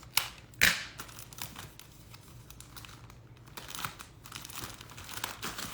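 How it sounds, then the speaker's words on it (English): Packing tape pulled and pressed onto an eBay parcel, a few sharp ripping and crinkling bursts between quieter rustles, close up with no talk. "Let's get a little more tape."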